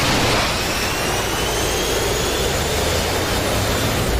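An F-16 Viper jet engine in the DCS flight simulator roars steadily at high power as it accelerates, a loud, continuous broadband rush with a faint rising whine, with no talk.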